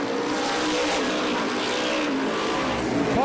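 Modified race cars from the True Value Modified Racing Series roar around Star Speedway, a dense continuous engine drone with shifting pitch as several cars battle in close, loud and steady throughout.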